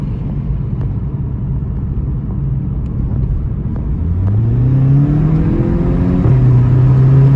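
A Volkswagen MK7 GTI fitted with an Integrated Engineering intake drives along, its low engine rumble steady and close, then rising into a clear revving tone partway through, with no talking.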